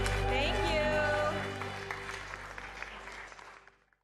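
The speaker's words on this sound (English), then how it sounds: "a big round of applause to everybody who's a part of the Hapa movement" Applause from the audience at a city council meeting, a dense wash of clapping that starts strong and then fades away over a few seconds, with voices mixed in underneath.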